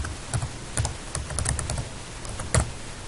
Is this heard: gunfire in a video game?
no